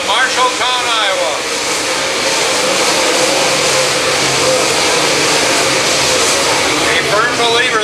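USMTS modified race cars roar around the Humboldt Speedway dirt track, a loud continuous engine wash with rising and falling revs as cars pass, under a race announcer's commentary.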